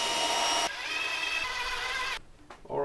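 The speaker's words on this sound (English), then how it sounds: "put in the remaining screw, drill the remaining holes" A power drill drilling holes in wood for a serving tray whines at high speed for a couple of seconds, stopping and briefly restarting, close and loud.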